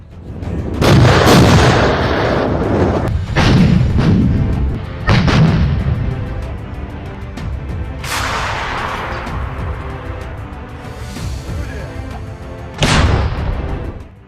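Heavy artillery fire during the storming of Ugledar: a series of loud, close booms at irregular intervals over a continuous roar of battle, with no voices.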